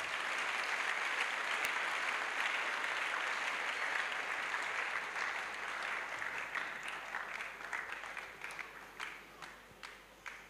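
A congregation at an evangelistic crusade gives sustained, dense applause with scattered cheering, loud and steady at first, then thinning into individual claps toward the end.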